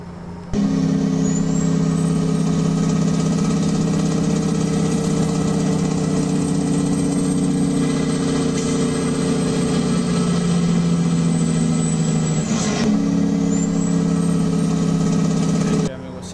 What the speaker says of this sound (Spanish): increíble el freno de motor amigos que lleva esta maravilla